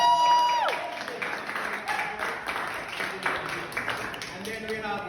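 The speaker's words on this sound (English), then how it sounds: "A round of applause for egg without egg." A crowd at a university quiz event applauds the team Egg Without Egg, with steady clapping and a few cheers under a brief musical tone at the start, moderately loud and continuous.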